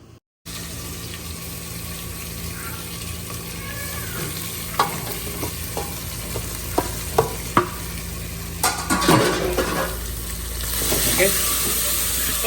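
Pepper chicken being stirred and sautéed in a pan, a steady sizzle with scattered scraping clicks of the spoon against the metal running throughout.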